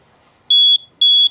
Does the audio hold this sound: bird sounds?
no